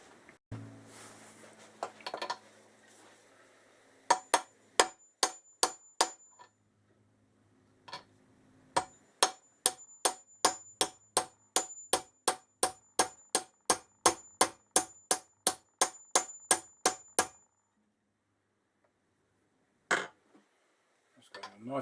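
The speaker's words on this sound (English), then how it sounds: "we can tap that home with a socket" Motorcycle part on a 1965 Triumph TR6 Trophy being tapped home with a socket, a long run of sharp metallic taps in a steady rhythm, close and crisp, with a pause partway and a couple of final knocks.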